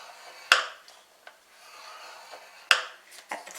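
Cardstock is scored on a scoreboard at the 1.5 inch mark: two sharp taps of the tool landing, each followed by soft scraping strokes along the groove, close and quiet with no talk.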